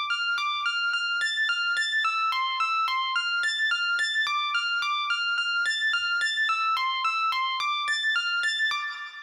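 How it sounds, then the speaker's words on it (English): A piano track soloed in music production software plays a steady melodic run of clear, evenly spaced notes, close and moderately loud, with no talking throughout. "right here, we've got this piano"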